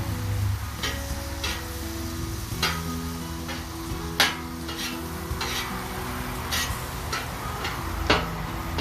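Butter melting on a flat griddle heated to about 350 degrees while it is slid back and forth, giving a steady soft sizzle with a few sharp scraping clicks and taps over low background hum.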